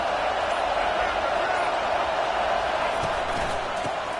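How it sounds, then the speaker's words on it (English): A football stadium crowd roars after a huge interception on an opening drive, a dense, steady wall of cheering noise that holds loud and unbroken throughout, close and enveloping. "listen to this crowd roar"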